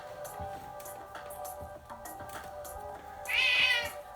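A house cat meows several times in an indoor room, short calls ending in a louder, higher meow near the end, with no talk over it.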